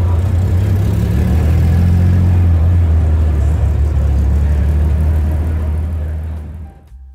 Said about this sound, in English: Coming now into view is one of the most beautiful sports racing cars of all time